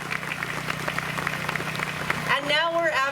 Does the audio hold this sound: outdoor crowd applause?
yes